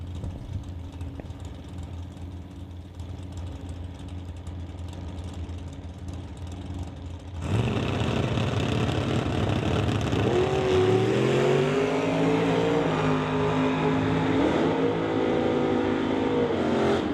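Two drag race cars, a mechanical S10 and a GTO, launch hard at a Sunday drag strip: engines idle quietly, then burst into a loud roar at about seven seconds and climb through rising gear changes down the quarter mile.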